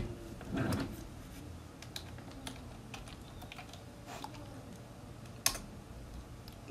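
A computer keyboard tapped to enter a password while changing it on Windows 10; a sparse run of soft, faint keystroke clicks in a quiet room, with no voices.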